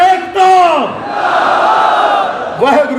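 A large crowd at a farmers' and workers' rally roars back slogans in unison, loud and near, with two long rising chants separated by a sustained shouted cry and a fresh burst at the end.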